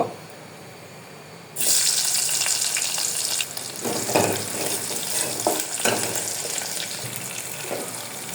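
Chopped onion drops into hot oil with whole cumin and bursts into a loud, bright sizzle that settles into a steady fry, with occasional stirring scrapes and no talking.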